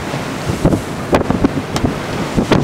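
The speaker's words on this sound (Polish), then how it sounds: "Fale mamy dzisiaj całkiem sporo." Sea waves wash onto the Bay of Pomerania coast in steady, surging bursts under a broad roar of surf, with gusty wind buffeting the microphone throughout.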